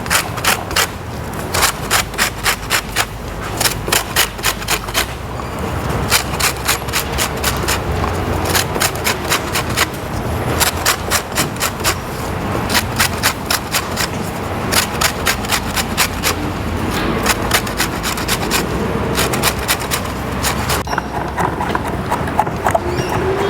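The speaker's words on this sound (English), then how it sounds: "Going to grate this orange, the whole orange all the way around" A whole orange rubbed against a grater for its fine rind makes loud, rapid rhythmic scraping strokes in bursts with brief pauses, close up and without talk.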